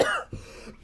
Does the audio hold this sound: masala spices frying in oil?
no